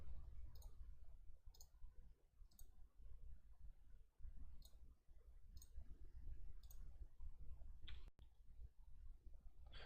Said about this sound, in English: by left clicking on them and then clicking the delete shift button